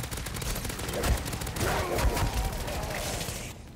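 A rifle fires in rapid bursts at zombies in MW3 Zombies, a dense, near stream of gunshots with heavy low thumps that continues for most of the span before cutting off.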